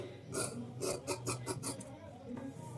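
Scissors cut through blouse fabric in a quiet, close series of short rasping snips, several in quick succession, then a pause and another soft cut.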